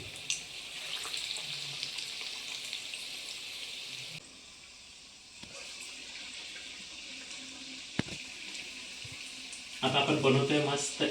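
Gram flour batter-coated potato and bread bhaji dropped into hot oil, giving a steady, hissing sizzle that swells into a louder, crackling burst at the end.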